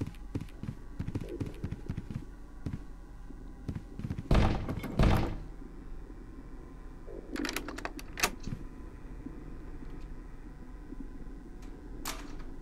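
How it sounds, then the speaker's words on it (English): Banging on a door in the horror video game Lamentum: heavy thuds cluster around the middle among scattered softer knocks and clicks in a quiet, eerie game soundscape. "Did I just hear someone banging on a door?"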